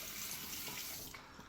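Tap water running steadily into a sink while rinsing after a shave, a continuous close splashing flow that stops near the end.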